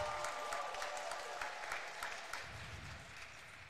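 A badminton crowd applauds at a women's singles final, a dense, sustained burst of clapping that holds fairly steady and slowly tapers off, with no talk over it.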